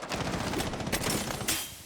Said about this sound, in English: Gunfire is going to go down.